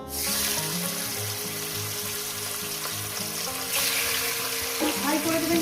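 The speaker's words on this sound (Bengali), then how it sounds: "হাই করে দিয়ে আমি চিকেনটাকে ফ্রাই করবো মিনিমাম সাত মিনিট" Chicken pieces fry in a pan over high heat with a loud, steady sizzle and crackle, joined by clinks, a rising burst of spitting and faint talk underneath.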